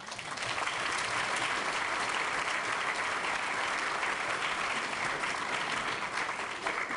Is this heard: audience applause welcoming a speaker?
yes